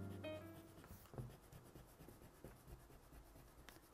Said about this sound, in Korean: 살짝 지워줄게요.